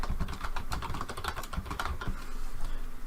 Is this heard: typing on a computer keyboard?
yes